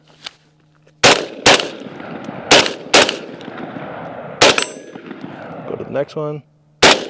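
Rifle shots fired during night-time shooting drills with a red-dot-equipped rifle, loud and close, spaced out in single and paired reports across the stretch, with a brief metallic clatter near the end, a short spoken line, and a final shot.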